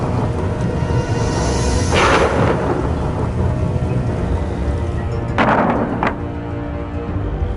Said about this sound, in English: this is some storm we're having